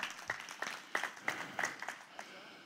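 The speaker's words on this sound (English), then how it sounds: "Y'all give the Lord a clap" A church congregation claps for the Lord at a healing crusade night, a handful of sharp, uneven claps spread over a couple of seconds, fairly close and moderately loud.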